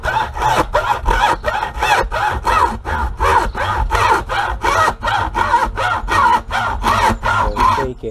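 A junior hacksaw cuts through the carbon fibre shaft of a Minelab Equinox 800 metal detector, with steady, close back-and-forth rasping strokes at a quick even rhythm, about three per second, continuing throughout.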